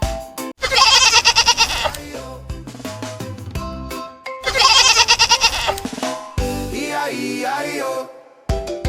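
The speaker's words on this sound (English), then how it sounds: "Goat say." A goat bleats twice in long, wavering cries, close and loud, against a backdrop of bright children's music.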